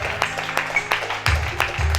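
A church congregation clapping for Jesus during a worship service, with sharp irregular claps over a sustained low organ or keyboard tone that shifts midway.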